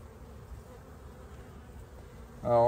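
Honeybees at a beehive in late-season, pre-winter work: a soft, low background drone, then one loud, close buzz swells suddenly at the very end.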